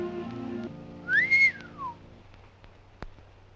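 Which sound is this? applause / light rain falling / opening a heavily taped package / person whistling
person whistling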